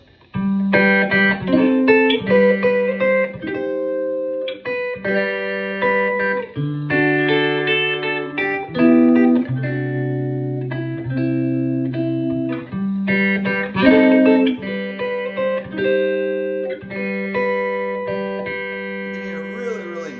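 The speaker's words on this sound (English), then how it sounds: "if I put on a little reverb and delay, by the way, this is a Strat Solid guitar" A Strat-style electric guitar played with a clean tone through reverb and delay, picked melodic phrases and chords ringing out with long echoing tails, loud and close, alone without talk.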